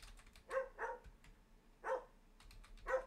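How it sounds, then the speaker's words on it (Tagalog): Several dog barks sound at moderate distance, three clear bursts spaced about a second apart over a quiet room background. "Ingay ng aso guys, no?"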